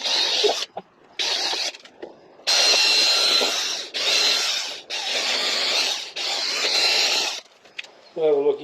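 Power drill boring into pine pallet wood in several sustained bursts of whining, grinding noise, close and loud, separated by short pauses, with a brief lower mechanical sound at the very end.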